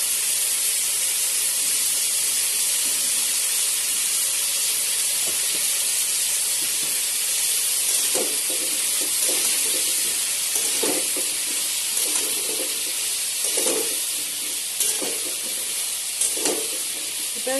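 Food frying in a pan after salt and turmeric are added, a continuous hiss and sizzle with occasional stirring scrapes and spurts of crackle growing busier toward the end, close and steady with no talking.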